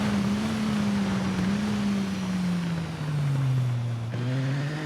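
A supersport motorbike in TT Isle of Man 2 races at high revs, a loud droning engine note sliding slowly down, then briefly dipping and picking back up near the end; no talking.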